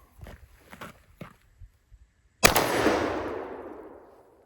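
A single sharp, loud report from a plastic shotgun shell fired at a steel target, ringing out and decaying over a couple of seconds after a few soft footsteps and handling noises.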